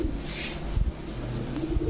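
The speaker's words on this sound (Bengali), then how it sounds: "এটা কি কবুতর ভাই এটা হোয়াইট রেসার" A white racer pigeon gives a short, low coo at close range, with a faint bump of movement partway through.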